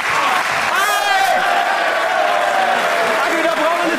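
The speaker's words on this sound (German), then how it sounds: "Jetzt Applaus" Studio audience at a German sports television show bursts into loud, dense applause and cheering, filling the whole stretch, with a presenter's voice shouting over it.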